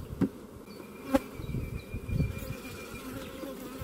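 Honey bees buzz at a beehive, close and in the open air, with a few louder passes as single bees fly near and a steady hum underneath, and nobody speaks.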